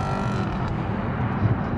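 A Maserati GranTurismo engine runs steadily and loudly throughout, a deep continuous rumble with no pauses and no voices over it.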